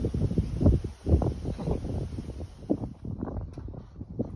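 Wind gusts outdoors at a shady afternoon sitting spot on a farm, heard as steady low rumbling buffets against the microphone that swell and fade for the whole few seconds, with no one talking.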